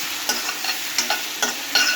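Onion, tomato, ginger and garlic frying in hot oil with panch phoron, ghee and a bay leaf for a chana dal dish, close sizzling broken by sharp scraping stirs of a spatula in the pan, repeated at a regular pace, with no talk.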